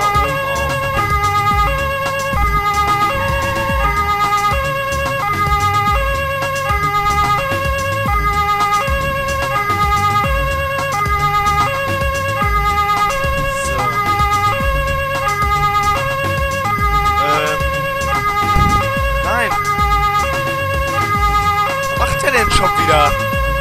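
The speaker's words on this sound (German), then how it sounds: "Außerdem macht mal die Sirene aus." Police siren in the video game Polizei 2013, a loud continuous wail with steady repeating tones held throughout, with occasional talk over it.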